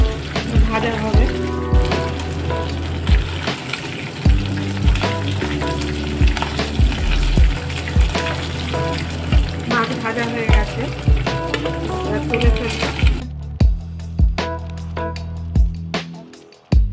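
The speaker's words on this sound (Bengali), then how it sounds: "মাছগুলো ভাজা হবে, মাছ এখন উল্টে পাল্টে দেব।" Pieces of rohu fish fry loudly in hot oil, sizzling continuously while a utensil strikes the pan in regular knocks as they are turned. The sizzle drops off near the end, leaving only scattered taps.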